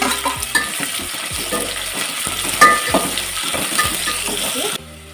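Cinnamon, cloves and biryani masala fry in hot oil for mutton biryani, giving a busy crackling sizzle with a spoon stirring and scraping the pan, close and continuous before stopping abruptly.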